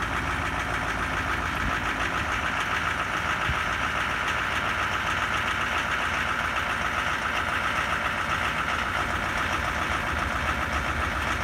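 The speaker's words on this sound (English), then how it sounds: "Let's wait for the fast idle." A 2017 L5P Duramax diesel engine runs at a steady fast idle just after a cold start at -5 degrees, a continuous, even rumble with a faint knocking texture that holds unchanged throughout, with no talk over it.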